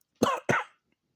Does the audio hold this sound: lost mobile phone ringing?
no